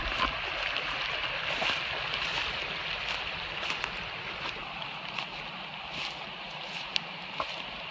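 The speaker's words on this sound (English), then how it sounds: "The brook just empties into this little pool right here." Kettle Brook spilling into a small pool, a soft steady trickle and rush with scattered light splashes, moderately distant and without talk.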